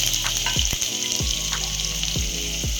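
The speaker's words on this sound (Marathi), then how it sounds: "तेल तापलेलं आहे आता यामध्ये एक चमचा मोहरी टाकून घेऊया थोडासा जिरा टाकून घेऊया हिरवी मिरची आणि लसूणची पेस्ट टाकून घ्यायची आहे" Mustard seeds, cumin and green chili-garlic paste sizzle and crackle steadily in hot oil, with a dense bright fry hiss and a few sharp pops, close up with no talking.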